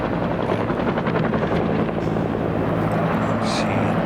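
A firefighting helicopter flies over a wildfire, its rotor beating in a loud, steady throb with a constant engine drone throughout, and a voice briefly speaks over it.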